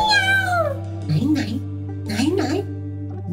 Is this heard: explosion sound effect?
no